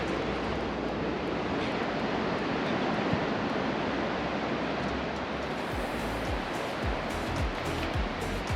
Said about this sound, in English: It's got black sand and the waves are much rougher.